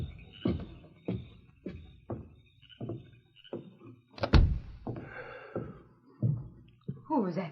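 A radio drama door sound effect from a 1946 Lone Ranger episode: a series of evenly spaced hollow thunks leads to a single sharp, louder bang, followed by a few softer knocks and a brief voice near the end.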